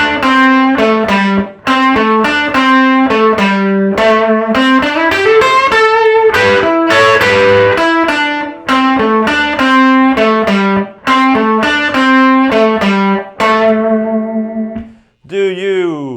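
Electric guitar plays a blues lick alone, a loud run of bent and picked notes with a distorted effects tone, ending in a brief trailing phrase.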